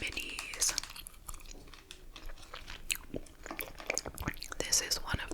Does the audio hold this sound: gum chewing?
yes